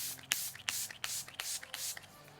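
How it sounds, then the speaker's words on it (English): Milk Makeup Pore Eclipse setting spray misted onto a face in several short, close hissing bursts, spaced roughly every third of a second, with no talking. "And I'm just going to spray this on."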